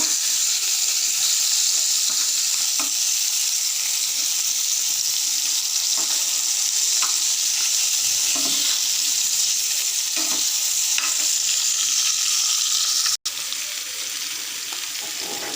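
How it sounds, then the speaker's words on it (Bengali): Hilsa fish, rubbed with turmeric and salt, fry in hot oil in a home kitchen. The sizzle is steady and crackling, with occasional pops and a brief sharp click near the end, and no talk. "তেল গরম হয়ে গেছে এখন মাছগুলো ভেজে নেব"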